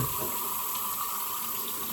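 Warm water runs steadily from a tap into a sink while shaving gear is prepared, a continuous close rushing splash with no pauses and no talk.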